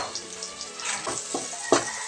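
Plenty of garlic fries in oil for chicken adobo, a soft continuous sizzle with a few brief stirring scrapes and one sharper clack toward the end.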